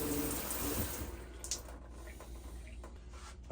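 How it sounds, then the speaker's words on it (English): Water sprays steadily from an aging, tarnished RV shower head, a broad hissing rush that fills the space at close range, slightly thinning toward the end with no talk over it. "There's an example of how strong the water is coming out of there."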